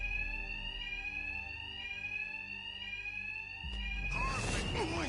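A loud electronic alarm in the video game Batman: Arkham Knight rings continuously with a steady high-pitched tone, and near the end a burst of clatter and noise breaks in over it.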